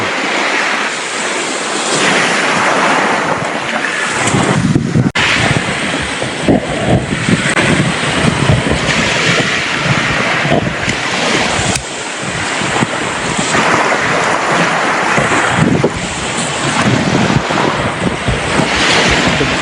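Sea waves at high tide on the shore at Dalugan, Casiguran, Aurora in the Philippines, a steady loud wash of surf under gusting wind buffeting the microphone, with no talk.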